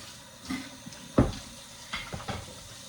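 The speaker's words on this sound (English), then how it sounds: "I'm just going to rinse this out." Something being rinsed under a running kitchen tap, a faint steady water flow with a few brief clunks and splashes, one sharper knock near the middle, close and fairly quiet.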